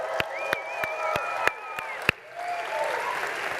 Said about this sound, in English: So round of applause for the badass women in the room,